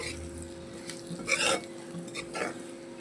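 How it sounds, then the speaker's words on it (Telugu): Coriander powder being stirred into a fry in a pan, a few soft scraping and clinking strokes of a spoon against the pan over a low sizzle. "అలాగే కొంచెం ధనియాల పౌడరు మొత్తం మిక్స్ చేసేసుకోవాలి"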